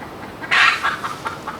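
An agitated broody hen on a small homestead gives a short burst of loud, harsh clucks, then several quieter scattered clucks trailing off, heard close with no talking.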